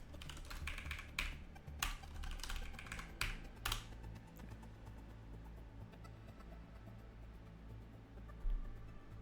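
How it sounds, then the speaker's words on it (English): Fingers type on a computer keyboard with quick, soft clicks that come in short bursts, louder at the start and then thinning into sparse taps over a low room hum, with no talking. "I can't type for my life"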